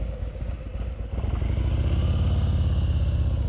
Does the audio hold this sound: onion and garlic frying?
no